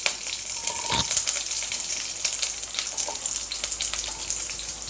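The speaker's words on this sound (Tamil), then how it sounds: "வெங்காயத்தை நல்லா வதக்கிக்கோங்க" Onions fry with curry leaves and mustard seeds in a pan, a continuous crackling sizzle with bright pops and occasional stirring scrapes, close and fairly loud.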